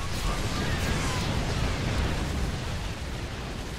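A Yamato cannon blast from a StarCraft II match tears through defensive turrets, a continuous loud, roaring explosive rumble sustained without break for several seconds.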